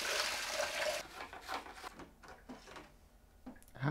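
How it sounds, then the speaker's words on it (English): Hot water pours into containers being filled to mix in hydroponic nutrient for growing pumpkins, a steady splashing stream for about a second and then fading into quieter intermittent trickles and small knocks. "So I'll fill these up with hot water to mix in the nutrient."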